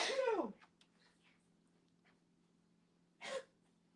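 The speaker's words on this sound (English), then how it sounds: "You couldn't sneeze in your room?" A person sneezes loudly and close, with a second, shorter sneeze or snort about three seconds later, and a quiet room in between.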